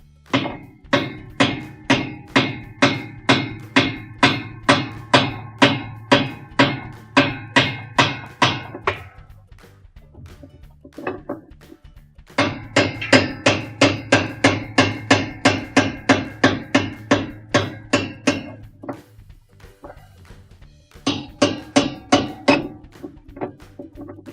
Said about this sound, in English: So we're going to take the hammer and just tap it a couple of times to loosen it.